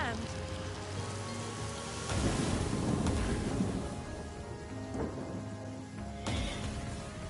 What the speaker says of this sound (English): Can I just cast rain here?